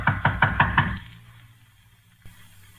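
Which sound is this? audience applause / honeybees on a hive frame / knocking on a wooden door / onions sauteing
knocking on a wooden door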